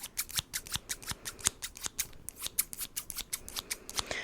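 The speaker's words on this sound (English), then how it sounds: "these crazy stacked scissors" Rusty, thrifted stacked herb scissors snip over and over in a quick, uneven rhythm, each crisp cut heard close up against a quiet background.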